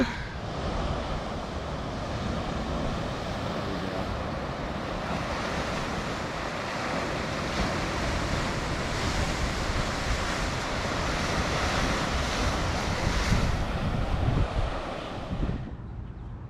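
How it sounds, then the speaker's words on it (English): Ocean surf rolls in continuously along an oceanfront path at Acadia National Park, a broad steady wash of breaking waves with wind buffeting the microphone. "Listen to the ocean."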